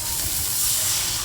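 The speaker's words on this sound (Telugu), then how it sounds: "మనము వాటర్ పోసుకోవాలి." Water hits a hot pan of roasted vermicelli for semiya sabudana payasam, giving a loud, steady steaming hiss that holds throughout.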